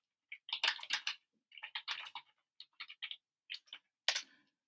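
Quick bursts of clattering keystrokes on a computer keyboard, close and clear, arriving in short uneven runs separated by brief pauses.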